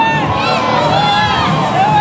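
Audience at a trials bike demonstration shouting together, a loud continuous crowd roar of many voices filling the whole moment, with a compère speaking over it.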